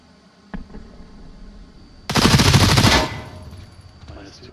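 Gunfire in a competitive online shooter match: one sharp shot, then a loud sustained burst of rapid automatic fire lasting about a second, fading into quieter background game sounds.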